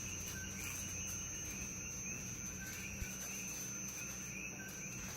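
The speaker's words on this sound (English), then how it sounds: "I fell in love with the sounds of the insects, the frogs, and the lizards." Dense night chorus of insects and frogs in a Puerto Rico jungle garden, steady high chirping and trilling layers with faint calls throughout, no talk.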